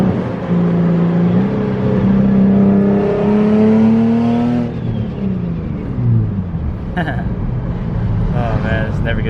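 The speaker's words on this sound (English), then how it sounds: "Right side, we get to hear turbo noises." An Infiniti Q50 engine revs and climbs through the gears with turbo noises, a steady rising drone heard from inside the car, with a person talking over it.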